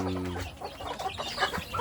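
Native village chicks in a brooder box, clucking and peeping close by in quick, irregular bursts. A deeper hen-like cluck is heard at the start, and no one talks.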